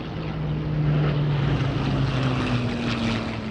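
Piston-engined aircraft with Merlin engines flying over Malta, a steady loud broadband roar with a droning low engine tone that shifts slightly in pitch, no voices.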